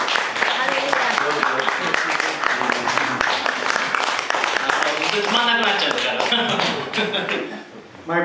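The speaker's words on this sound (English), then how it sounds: "Give him a mighty hand clap." A church congregation at a special service gives a hearty round of applause, with dense, continuous hand claps mixed with voices and calls that carry on for several seconds before easing off near the end.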